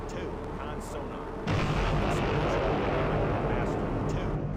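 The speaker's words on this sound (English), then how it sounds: "6 torpedoes hitting like quick succession" Torpedo hits in the submarine game Sub Command land as a muffled underwater boom that swells into a sustained low rumble, heavy and distant, with a voice heard faintly.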